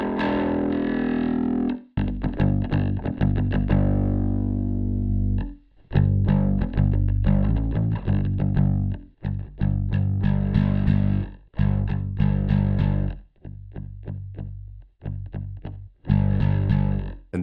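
Guitar through the SONULAB StompStation app with its compressor switched off, a distorted amp tone in choppy strummed chords and short riffs separated by brief gaps, loud and alone with no talking.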